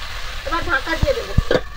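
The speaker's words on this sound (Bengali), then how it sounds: "সবজিগুলো একটু ভালো করে ভেজে নিচ্ছি, যেহেতু এটা ফুলকপি আছে" Vegetables with cauliflower frying in pangas fish oil, a soft steady sizzle with a few sharper spatters and stirring knocks close by, with faint voice traces in the background.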